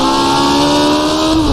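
A custom 1970s Formula One car in the rFactor2 racing game holds a loud, steady high-revving engine whine with a slight pitch drift, close and continuous, with no voices.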